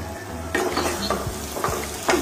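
Kosha mangsho meat stirred into a spice paste of pepper and garam masala in a hot pan, with close, loud scraping strokes at an uneven pace over a steady sizzle.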